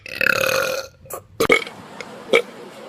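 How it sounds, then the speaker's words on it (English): A man burps loudly and at length, then a few shorter, weaker belches follow with pauses between them, all close up with no talk. "I'm not getting any good burps."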